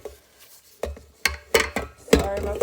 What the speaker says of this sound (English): wiping down the inside of the bowl to make sure everything gets incorporated in